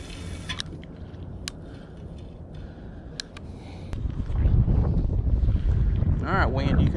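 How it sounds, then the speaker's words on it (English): Wind gusts rumble across the microphone on a boat during winter bass fishing, steady at first and then louder and heavier for the second half, with brief clicks and faint voice fragments near the end. "Alright, wind, you can die anytime now."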